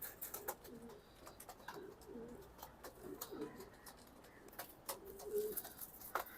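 Racing pigeons coo in soft, repeated throaty phrases, fairly faint and close together, over a quiet background with no clear talk.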